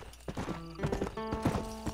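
Horse hooves clip-clop at a steady trot in the video game Red Dead Redemption, close and fairly loud, with harmonic tones that suggest a whinny overlapping the hoofbeats.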